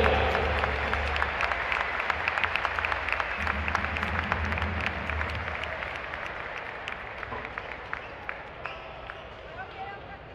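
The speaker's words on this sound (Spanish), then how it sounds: "Un fuerte aplauso de Mexicali para ellos." Crowd in a basketball arena in Mexicali applauding at a Soles de Mexicali versus Astros de Jalisco game, with loud dense clapping and cheering that gradually thins and fades over about ten seconds amid background crowd murmur.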